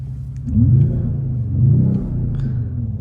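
Mercedes-AMG CLE53 coupe engine revving in Sport Plus mode, heard from inside the cabin as a deep, close rumble that swells in two short rev blips over a steady idle.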